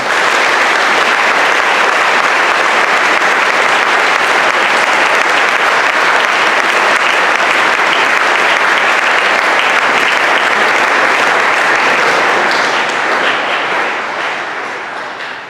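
Sustained, dense applause from a large school prizegiving audience honoring a retiring classics teacher, loud and steady throughout before tapering slightly at the end.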